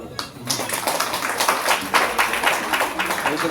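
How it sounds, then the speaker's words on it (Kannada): An audience claps for prize-winning children at a stage event during a Kannada religious gathering with a swami, the steady applause rising quickly and holding at a moderate level over a noisy crowd. "ಮಕ್ಕಳಿಗೊಂದು ಚಪ್ಪಾಳೆ ಹೊಡಿವಾಗ"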